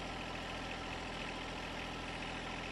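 A John Deere compact tractor engine idles steadily, a constant close-up diesel rumble with an even throb and no change in pitch.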